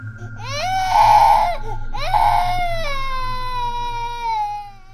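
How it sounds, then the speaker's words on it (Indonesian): An infant cries in two long wailing bursts followed by a softer trailing whimper, loud and close over a faint low background hum, with no talk. "sang ayah kerap mendengar tangisan bayi di malam hari"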